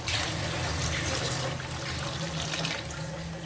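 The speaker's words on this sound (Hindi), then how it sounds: "तो अभी हम इसमें जी पानी ऐड करेंगे अपना 1 गिलास।" A glass of water is poured into a cooking pot while making hotel-style aloo ande ka salan, a steady, close, full rushing pour lasting several seconds.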